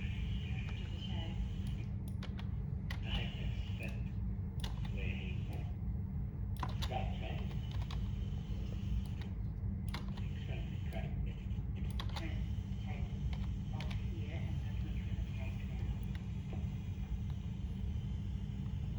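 Computer keyboard typing and clicking, scattered quick taps in bursts over a steady low rumble, fairly close.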